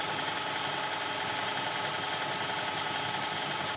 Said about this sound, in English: The power feed on this lathe then is something I'm really grateful for